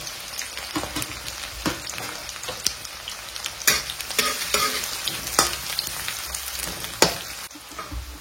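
Onions sizzle steadily in hot oil in a pan while a utensil scrapes and clatters against the pan now and then.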